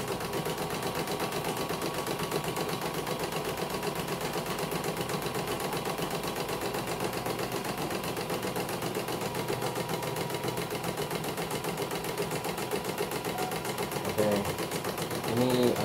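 CNY embroidery machine running at a service workshop, a fast, steady mechanical chatter of needle strokes that continues without pause, close and even in level.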